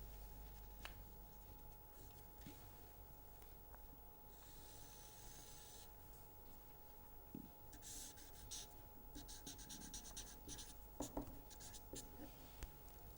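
A pen scratches and taps across a surface while sketching a function during a lecture, producing faint, intermittent strokes and ticks that cluster near the end, with a steady low room hum beneath and no talking.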